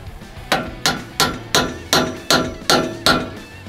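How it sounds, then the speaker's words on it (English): Hammer blows seat butterfly fittings on hydraulic hoses while hooking up a K-Tec ADT scraper: eight sharp metallic strikes land in a steady, evenly spaced rhythm, loud and close, with no talk. "be sure to use a hammer to seat the butterfly fittings"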